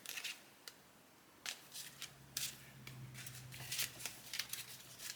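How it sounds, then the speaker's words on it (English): A small mini tarot deck is shuffled by hand, giving bursts of crisp card riffling and flicking at close range, separated by short quiet pauses. "All right, so let's see how they shuffle."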